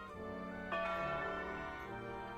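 A bell rings in the Wallace & Gromit's Grand Adventures video game, one clear struck tone with a long ringing decay, faint and unaccompanied by talk.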